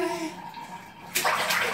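A ten-month-old baby in a bathtub makes a sudden burst of splashing water near the end of the clip, after a moment of quiet room sound with faint tones.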